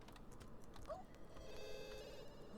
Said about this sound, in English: let the phone just ring, ring, ring, ring, ring